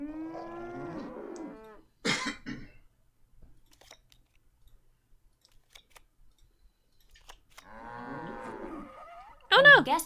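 Cows mooing in the video game Nancy Drew: The Captive Curse, two drawn-out moos separated by a quiet pause, each followed by a brief sharp noise.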